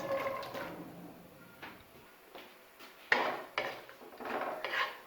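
Two medium-sized onions being stirred in about half a cup of hot oil in a pan while browning for chicken handi, with intermittent scraping and clinking of a spatula, including a few sharper knocks.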